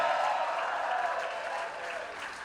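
A concert crowd cheers and applauds in a steady, dense roar of clapping and shouting that eases slightly toward the end.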